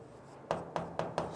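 Chalk or marker strokes on a classroom board during a Hindi lesson: four quick, evenly spaced scratchy taps, close and fairly quiet, with no talk.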